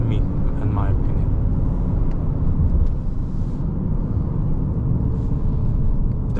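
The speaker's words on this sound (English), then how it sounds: "in this comfort mode, I like the sound of the engine better than in sport" Engine of a 2024 Volkswagen Atlas Comfortline SUV driving in comfort mode, a steady low rumble with road noise heard from inside the cabin, continuous under a person talking.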